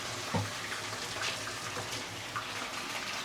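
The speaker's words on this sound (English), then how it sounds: "So let's fry the first side for approximately 2 to 3 minutes" Two pieces of wild barramundi fish fry in smoking hot oil, giving a steady, fairly quiet broadband sizzle with soft crackles and pops throughout.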